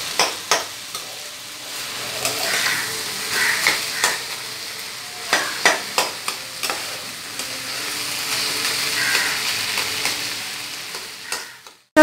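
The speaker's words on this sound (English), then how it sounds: "You can get the nice smell of fried fish." Bhetki fish fries in a pan with a steady sizzle, broken by a run of sharp clicks and scrapes as it is stirred and turned, close and fairly loud.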